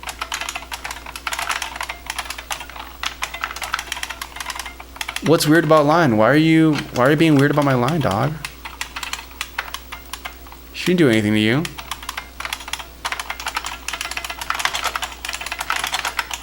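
Typing on an IBM Model M computer keyboard runs steadily throughout, clicky and close, while a person talks over it in two stretches.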